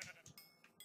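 A sheep in the video game Minecraft, in a hardcore survival world, gives a brief, faint bleat lasting under a second.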